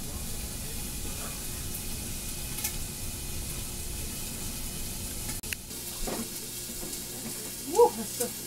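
Teriyaki chicken stir fry frying in a covered pan, a soft steady sizzle that stays close, with a few knocks of the lid or utensil near the end and no talking.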